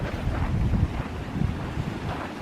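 Ice-cold creek water rushing down from the mountains near a campsite in the Eastern Sierra, heard as a steady, dense wash of noise with some wind buffeting on the microphone.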